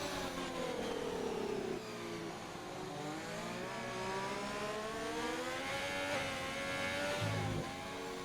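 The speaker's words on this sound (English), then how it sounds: "You hear him short shifting." Race car engine from the F1 2020 video game at Spa, short shifting with repeated rising revs cut off by quick upshifts, a steady loud drone throughout with no talk.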